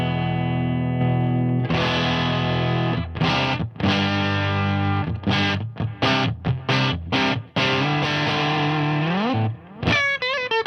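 Electric guitar with the Boss SD-2 dual overdrive pedal switched off plays sustained chords and choppy strummed stabs, loud and up close, ending in a few quick single-note bends.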